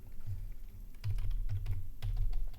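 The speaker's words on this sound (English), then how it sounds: "And I can move it with my arrow keys." Computer keyboard arrow keys are tapped in a quick, irregular series of soft clicks, close and fairly quiet, with no talking.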